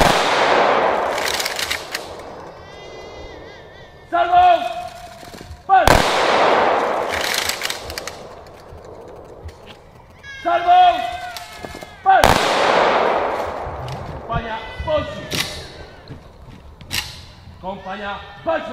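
An honor guard fires ceremonial rifle volleys at a memorial ceremony marking the 91st anniversary of the deaths of aviators Żwirko and Wigura. Three loud, sharp volleys crack out several seconds apart, with shouted commands heard in between.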